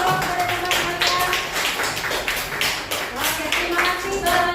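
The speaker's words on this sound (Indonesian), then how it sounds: "Oke, berikan tepuk kepada teman-teman kalian." Children in a classroom clap for their classmates in short, ragged bursts of claps that come and go, with a voice and chatter sounding over them.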